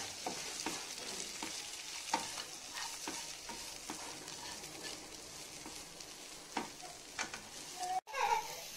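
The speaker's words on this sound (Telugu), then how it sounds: "నేను 2 కలిపి వేస్తున్నాను, పుదీనా అండ్ కొత్తిమీర. దీన్ని ఇట్లా ఫ్రై చేసుకోవాలి." Mint and coriander leaves fry in a pan, a soft, steady sizzle with regular scrapes and taps of stirring, fairly quiet and near, with a brief clatter at the end and no talking.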